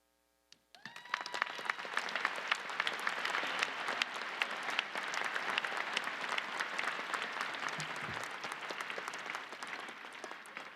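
Sustained applause from a large arena audience at a December commencement ceremony, starting abruptly and holding steady as dense, even clapping with no pauses, close and loud throughout.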